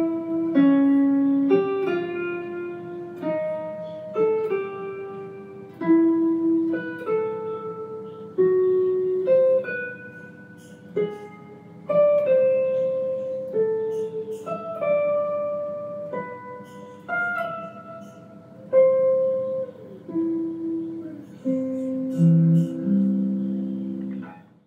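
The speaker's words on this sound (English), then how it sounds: "If I just play the melody line by itself, the top voice, it sounds like this." Guitar picking a single-note melody of the top voice of triads, clear plucked notes in a steady, unhurried rhythm, close and alone, each note ringing briefly before the next.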